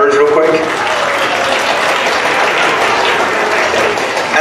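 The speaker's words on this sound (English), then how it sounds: "So fifth graders, go ahead and quickly give a round of applause for your family members real quick." Fifth graders at a school ceremony give their family members a loud round of applause, steady dense clapping filling the whole stretch, with some voices mixed in at the start.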